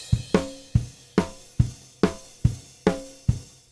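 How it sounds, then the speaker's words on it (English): Raw, unprocessed drum kit recording with no effects, a steady alternating kick and snare groove with cymbal wash, each hit decaying quickly in an even rock rhythm. "here's what his drums sounded like when we recorded them and didn't add any effects or processing to them"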